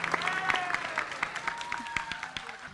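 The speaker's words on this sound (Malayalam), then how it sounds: "കയ്യടി മൊത്തം അവിടെയാണ് കൊടുക്കേണ്ടത്," An audience applauds at a stage performance, giving scattered, fairly sparse claps in an uneven rhythm that are moderately distant and fade slightly over a few seconds.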